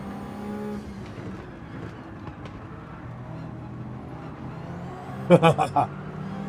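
A Bugatti race car engine in Gran Turismo 7 drones steadily at moderate loudness throughout, with a brief cluster of sharper bursts near the end and a faint voice under it.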